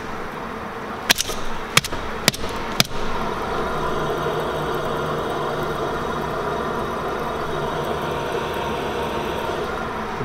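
A spinning car wheel with a worn-out, failed wheel bearing gives a steady droning hum and grind, preceded by a few sharp knocks or clicks near the start.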